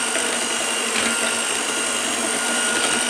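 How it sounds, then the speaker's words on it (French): Electric hand mixer on its lowest speed beating oil and sugar for a zebra cake, a steady loud whirring motor hum that runs unbroken throughout with no talk. "vitesse 1 pour le batteur, et on ajoute le sucre gentiment"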